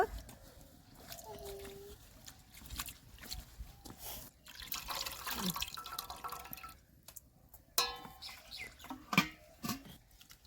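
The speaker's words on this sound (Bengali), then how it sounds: "ডালটা ভালো করে পরিষ্কার করে ধুয়ে নেব" Lentils being washed by hand in water, soft dripping and sloshing close by, with faint background voices and a distant clucking hen.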